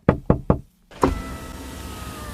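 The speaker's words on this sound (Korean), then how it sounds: "그리고 다음날 그녀의 친구가 창문을 두드렸어요." Knuckles rap three times in quick succession on a car window, loud and close, followed by a moment of silence and then a softer thump with a low hum from inside the vehicle.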